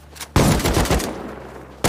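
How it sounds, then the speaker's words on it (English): Sniper gunfire in the survival game Rust during a raid on a sheet metal base: a loud, sharp shot with a long ringing decay, then a second crack starting at the very end. "This guy was sniping"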